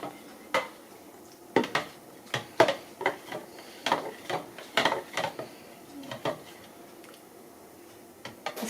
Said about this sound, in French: vous mélangez jusqu'à obtenir un mélange homogène